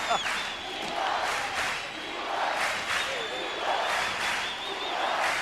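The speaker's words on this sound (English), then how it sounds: "Crowd really getting into it for Eagle Pass." Fans at a 1988 high school baseball game between Eagle Pass and Cooper cheer and shout from the stands, a rolling, swelling crowd roar with yells, heard at a distance under a commentator talking.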